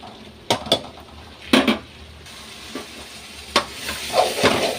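Chili powder sautéing in a pan for kara kuzhambu, a soft frying sizzle broken by several sharp clinks and scrapes of a spoon against the pan.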